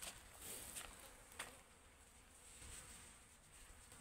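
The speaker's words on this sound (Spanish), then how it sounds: "Esta es la compi de Sena, que también está un poco llena de moscas." Flies buzzing around a horse in a stable setting, a continuous faint insect drone with a few closer passes, no talking.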